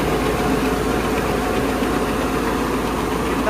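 Tractor-driven rice hulling machine running steadily nearby, a continuous loud mechanical drone with an engine-like rumble and rattling vibration, no talk.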